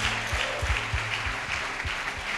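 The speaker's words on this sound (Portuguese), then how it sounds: "Você pode aplaudir ao Senhor" A church congregation claps together in steady, dense applause that holds throughout, with faint low thumps underneath and no clear voices.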